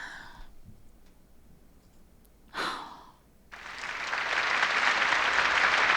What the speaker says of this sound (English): heavy applause breaks out in the stadium as a woman wearing a black dress appears on stage